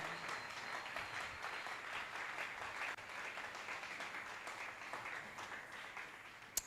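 A congregation at the closing of a youth retreat claps steadily in sustained, enthusiastic applause that fills the hall, staying even and dense throughout before a sharp knock at the very end.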